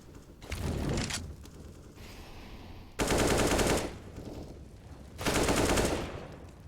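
AK rifle firing in Counter-Strike on the Inferno map: three loud, close bursts of rapid automatic fire with short gaps between them, and no talk.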